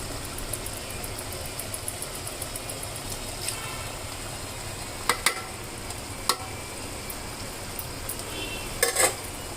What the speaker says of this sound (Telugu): ఎగ్స్ వేసిన తర్వాత కాస్త నెమ్మదిగా కలపండి.